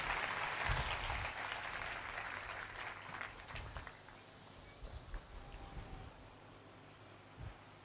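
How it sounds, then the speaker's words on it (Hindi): A congregation at a church sermon gives loud applause, a broad hiss of clapping that slowly dies down to faint scattered claps and room noise, with low thumps of a voice. "खुदा के पाक रूह के लिए जोरदार तालियां मिले।"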